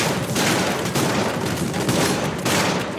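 Loud, continuous weapon fire from Terminator Salvation, a fast string of overlapping shots with a few brief dips as the bursts run on, with no talking.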